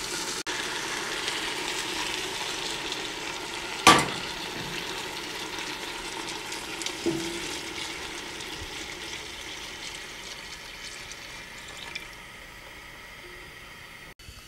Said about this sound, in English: Now I'm going to add enough clam broth, in this case mussel broth, to cover the potatoes.